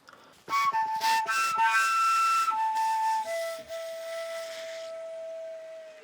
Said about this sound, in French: tu te retrouves à avoir une flûte harmonique qui fonctionne